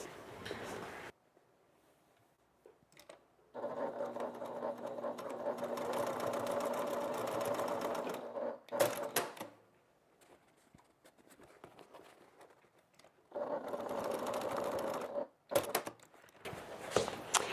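A domestic sewing machine runs in several bursts while stitching the boxed corners of an evening bag, each a steady mechanical whir lasting a few seconds, separated by quiet pauses and a few clicks.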